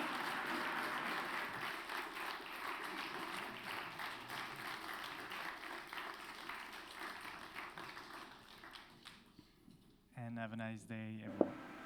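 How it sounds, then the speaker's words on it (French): An audience at a French-language talk claps for the presenter, a steady broad patter of many hands lasting several seconds before fading, then a voice speaks alone. "Je pense que l'on peut applaudir notre intervenant"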